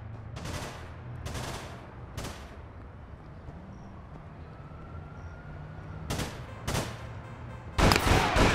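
Gunfire in the online shooter APB Reloaded, several sharp broadband bursts of shots spaced apart with a louder rapid volley at the end, over a low steady game background hum.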